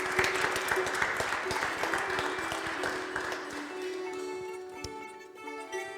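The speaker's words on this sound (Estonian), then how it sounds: "teeme talle ühe väikse aplausi." Audience at an Estonian Independence Day celebration in Rae Cultural Centre applauds a photo prize winner, steady group clapping with a faint tonal hum underneath that thins out near the end.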